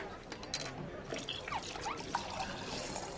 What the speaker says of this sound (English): Of course I know how to pull a pint.